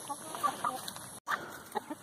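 Several old hens clucking in a coop, a steady run of short close clucks and calls with a brief gap partway through.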